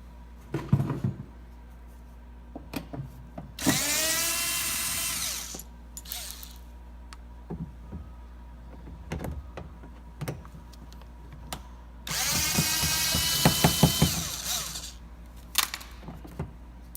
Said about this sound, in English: This back screw can be a little bit tricky to get to, so what I use is a Phillips bit on a hand ratchet.